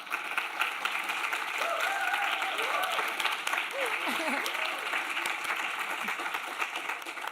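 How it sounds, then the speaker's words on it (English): Steady crowd applause at a pediatric innovation event in Barcelona, many hands clapping in a continuous even wash with faint voices murmuring underneath. "Big applause,"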